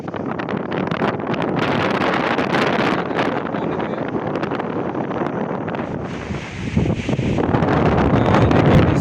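Strong gusts batter the microphone on a pier beside shallow coral reef, a loud continuous roar of wind buffeting that swells and briefly eases near the end, with no voices.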